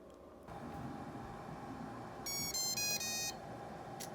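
A kitchen timer beeps in a quick run of high electronic tones about a second long, over a low background hum.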